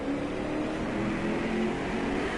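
A loud, continuous racing car engine in the video game DriveClub roars at high revs throughout, a dense mechanical whine with no pauses or voices.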